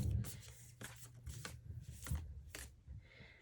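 A deck of archetype oracle cards being shuffled by hand, a quiet, close series of soft papery riffles and flicks lasting a few seconds.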